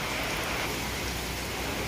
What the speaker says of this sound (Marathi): हे बघा चाललंय पाऊस.